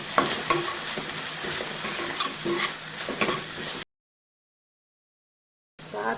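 Tomatoes frying in a pan with golden-brown ingredients, a steady close sizzle broken by light scraping stirs, then a sudden break into silence before the sizzle returns.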